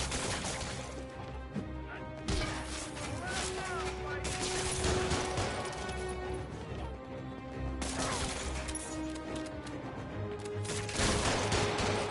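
Enemies open fire in a Spider-Man video game, with bursts of gunshots and crashing impacts scattered across a busy fight while voices shout over the action.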